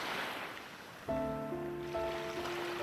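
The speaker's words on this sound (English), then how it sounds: "It was the sound of Shinimizu Spring churning, ready to flow over." Water churns with a broad, rushing surf-like wash from Shinimizu Spring in a video game, joined partway through by sustained tonal music notes.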